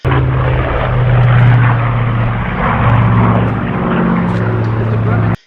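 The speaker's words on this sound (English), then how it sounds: "the lovely noise that those twin R2800-34W engines" Loud, steady drone of a Grumman F7F Tigercat's twin 2,100-horsepower R2800-34W radial piston engines, a deep throbbing roar with a low harmonic hum that holds throughout.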